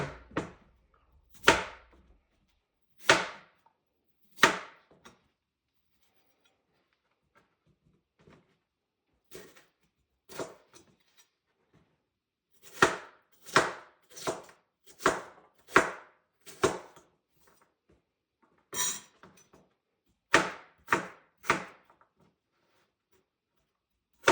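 Knife chopping potatoes on a board in a home kitchen, heard as a string of sharp, close taps in short bursts with brief pauses between them, alone with no talk.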